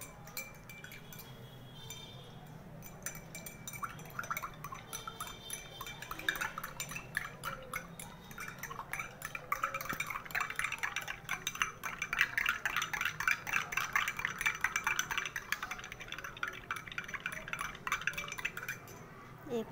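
Soap solution being stirred by hand during a market demonstration, with light clinking and wet swishing that grow louder and quicker partway through and keep going as a steady rhythm, while a person talks in the background.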